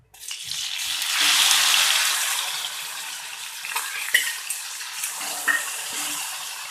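Tomatoes frying in about two spoons of hot oil after half a spoon of asafoetida, cooked for a Mysore masala dosa filling; a broad hiss swells after the first second, then eases into a steady sizzle with a few sharp clinks of stirring.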